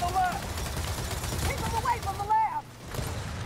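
A mounted gun fires in the Gears of War 4 video game, with rapid bursts of shots under a player talking, the firing loud and continuous before dropping off near the end.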